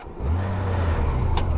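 A warm Honda Gold Wing Aspencade touring motorcycle's six-cylinder engine fires up and settles into a loud, smooth, low idle close by, with a brief higher click near the end.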